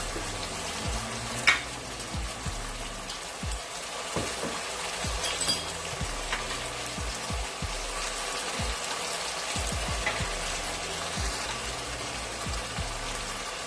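Spices tossed into hot oil for chicken shorba sizzle and fry steadily in a pan, a close, continuous crackle with scattered clinks and stirring knocks throughout and no talking.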